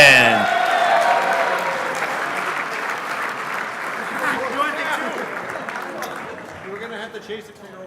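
Guests at an RC car racing world championship awards banquet clap loudly, a thick burst of applause that gradually tapers, with a host's voice speaking over it and a few whoops near the end.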